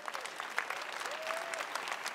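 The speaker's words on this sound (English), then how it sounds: "Let's give them all a round of applause." Audience applause fills the hall at the EA press conference at E3 2018, a steady wash of many hands clapping at a fairly distant, moderate level for about two seconds without letting up.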